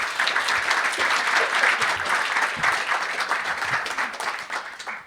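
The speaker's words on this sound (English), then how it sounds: "Round of applause." A conference audience claps after a talk, producing a full, sustained burst of applause from many hands that stays loud throughout and tapers slightly at the end, with no voices over it.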